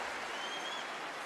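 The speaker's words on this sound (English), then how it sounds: "It was almost polite applause." Polite, restrained applause from the crowd at the 2014 Australian Open men's final between Wawrinka and Nadal, a steady even patter of clapping with no breaks across the whole moment.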